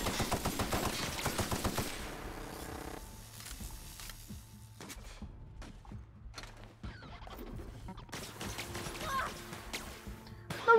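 Gunfire in The Outer Worlds inside a secret laboratory, a rapid burst of shots at the start, then scattered softer shots and mechanical clatter amid ambient game sound.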